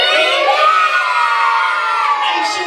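A young audience of children at a live show shouts a loud greeting in unison, one sustained, bright burst of massed voices lasting a few seconds.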